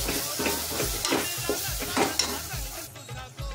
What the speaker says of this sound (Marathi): हा आपला घरी बनवलेला खडा मसाला थोडासा टाकूया आणि चांगलं त्याला मिक्स करून घेऊया